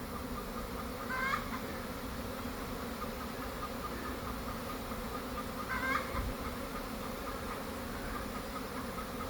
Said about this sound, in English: They're coming down. Yep, all landing on that swarm trap right there.